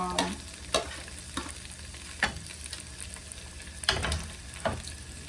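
Red onions and yellow pepper sizzle in a pan with ground pork, under a moderate frying hiss punctuated by several sharp clacks and scrapes of a utensil stirring at irregular intervals.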